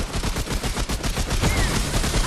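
Rapid bursts of automatic gunfire from Remnant: From the Ashes, loud and dense, with repeated shots running continuously and no voices.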